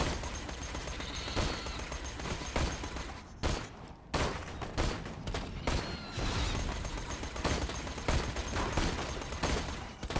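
SMG gunfire in Borderlands 2, rapid continuous bursts of shots filling nearly the whole stretch, loud and dense with only a few brief gaps between volleys.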